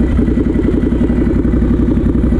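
A Scrambler motorcycle with a very loud aftermarket exhaust runs just after start-up, a close, rapid, throbbing burble that stays steady and heavy throughout.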